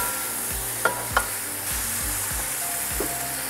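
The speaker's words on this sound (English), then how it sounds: "And now we could add the mushrooms." Mushrooms sizzle and fry in a pan as a lamb omelette breakfast is cooked, with a steady hiss underneath and a few sharp clinks and scrapes of stirring, near and fairly quiet, no talking.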